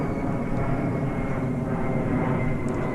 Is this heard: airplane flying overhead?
yes